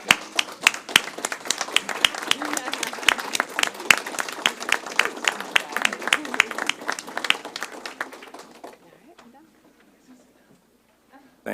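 Standing ovation for schoolchildren at a school district board meeting, a dense burst of many hands clapping loudly and steadily for about eight seconds before tapering off into near silence.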